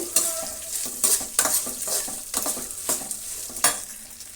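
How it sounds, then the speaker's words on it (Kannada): Finely chopped onions fry loudly in a pan, a steady sizzle broken by repeated scraping stirs and light clinks of a utensil against the metal, heard up close with no talking. "ಈಗ ಎರಡು ಈರುಳ್ಳಿ ಸಣ್ಣದಾಗಿ ಕಟ್ ಮಾಡಿರೋದನ್ನು ಇದ್ದೀನಿ ಫ್ರೈ ಆಗಲಿ"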